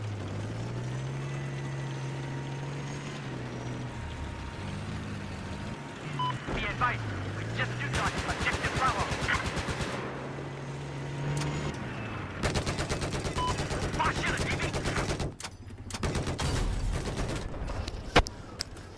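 Bursts of rapid automatic gunfire from a Battlefield 4 firefight, loud clattering volleys in the second half with a boom and engine rumble earlier, over continuous game background noise.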